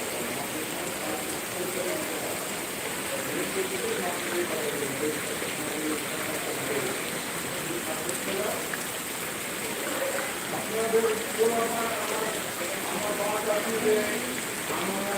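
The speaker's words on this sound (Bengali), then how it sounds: "এই বৃষ্টিটা আজকে খুবই প্রয়োজন ছিল" Steady rain falling in Mirpur, a broad continuous hiss with scattered drips and patter throughout, moderately loud, with faint voices in the background.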